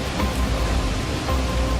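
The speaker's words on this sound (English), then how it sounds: "Rain fell heavier by the second, the winds howled urging it on, until the storm descended unstoppable." Heavy rain pours steadily during a storm, a loud, dense and continuous hiss with no breaks and no voices.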